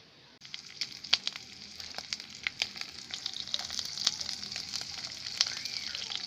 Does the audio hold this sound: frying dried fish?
yes